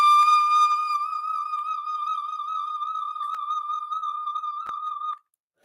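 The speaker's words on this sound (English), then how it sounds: "It sounds like a kettle with vibrato." A singer holds a high whistle-register note between D6 and E flat 6 for about five seconds. It is a pure, kettle-like tone with gentle vibrato that stops abruptly.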